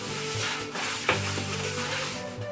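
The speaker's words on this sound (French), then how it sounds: "je m'excuse pour le bruit absolument affreux que ça fait, mais le fond est en plastique" A spoon stirs folded paper name slips in a plastic container, giving a close, continuous scraping rustle with one sharper knock partway through.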